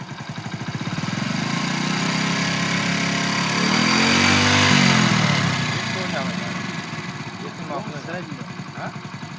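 A learner's motorcycle engine rumbles at idle, then swells into a rising and falling rev as the clutch is let out, close and loud, with someone speaking over it.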